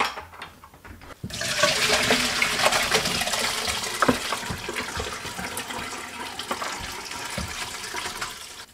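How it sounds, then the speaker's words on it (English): Shredded cabbage for canned coleslaw being rinsed of salt under a strong, continuous gush of running water that begins abruptly after a brief quiet moment and stays loud and steady throughout, with no talking. "now I'm rinsing it again just to get rid of that salt"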